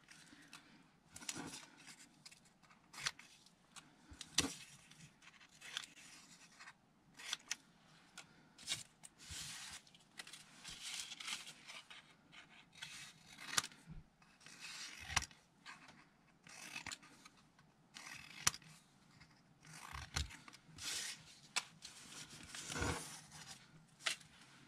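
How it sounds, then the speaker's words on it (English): Scissors snipping through stamped paper collage pieces, a steady run of soft, quick cuts and rustles that stays close and fairly quiet for the whole stretch. "let's cut those out"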